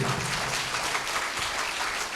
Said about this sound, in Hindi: जोरदार तालियां हो जाए और जोरदार